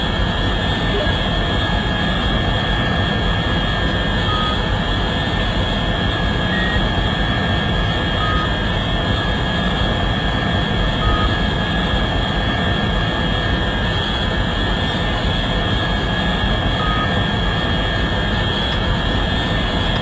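Scramjet spacecraft engine in the Orbiter 2016 space flight simulator at hypersonic speed, a steady, loud roaring jet drone with a constant whine, unbroken and alone throughout.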